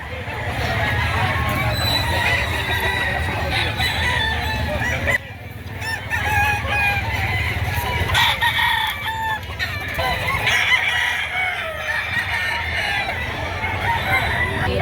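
Roosters crow amid clucking fowl at a busy chicken market in Lipa, Batangas, with overlapping calls and a constant crowd murmur; people talk throughout.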